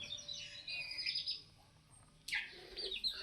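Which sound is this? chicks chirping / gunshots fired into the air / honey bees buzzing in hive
chicks chirping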